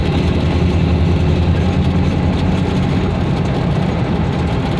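Car engine idling after a final exhaust repair with a new tailpipe, heard from inside a cabin missing much of its interior; a loud, steady low rumble throughout.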